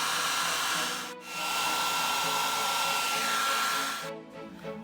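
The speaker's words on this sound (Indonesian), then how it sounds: "Di sini kita akan menguji dengan mengaliri dengan hair dryer." A hair dryer blows air steadily and loudly at a wing model in a Bernoulli lift experiment, with a short drop in the airflow near the start and a cut-off near the end.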